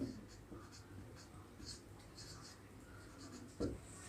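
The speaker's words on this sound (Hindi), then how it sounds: "यहाँ पे भी लिख दे रहे हैं सादिया" A marker or chalk writes on a board during a geography lesson, with soft rhythmic scratching strokes close by and a brief knock near the end, under faint background noise.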